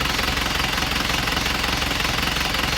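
A repaired Isuzu Panther diesel engine runs on its own, a dense, steady clattering rumble with rapid even knocking, close and loud without any speech.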